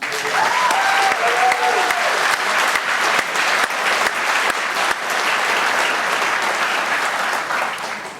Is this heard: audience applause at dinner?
yes